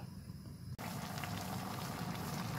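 Jackfruit with dried fish simmers in a covered pot, giving a steady, continuous bubbling boil that starts after a brief dip in level and runs on evenly with no talk.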